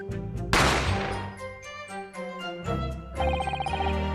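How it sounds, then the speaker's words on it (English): Gunshot effect in The Great Ace Attorney, a sharp loud blast followed by a ringing, tonal decay and chiming game music that carries on alone for several seconds. "You heard the gunshot, you mean?"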